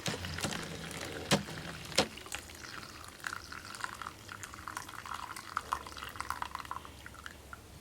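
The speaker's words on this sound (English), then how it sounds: "I'm just going to pour the hot water into the container." Hot water from a small pot poured into a container during hair dyeing, a soft trickling and dripping with a few sharp splashes early on, close and fairly quiet, no voices.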